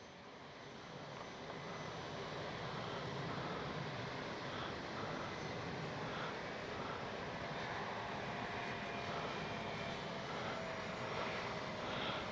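An X-Fly Spitfire RC plane flying at about half throttle, a steady droning engine roar holding constant and fairly loud throughout with no voices.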